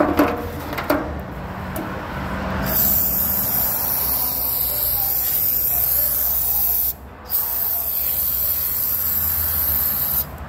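Brake cleaner sprays from an aerosol can onto a throttle body in a long, steady hiss. A few short clicks come first, and there is one brief pause partway through.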